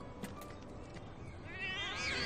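Cats in the Final Fantasy VII Remake video game meow with rising, wavering calls over a dense bed of game music and ambience, growing louder toward the end.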